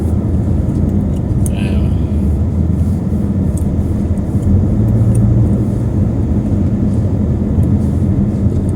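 A car drives through heavy city traffic in Saudi Arabia near a King Abdulaziz street corner, giving a steady, loud low rumble of engine and road noise heard from inside the vehicle throughout.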